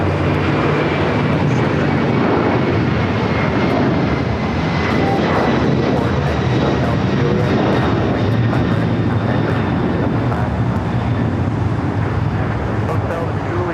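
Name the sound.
Boeing 767-300ER jet taking off from runway 25 right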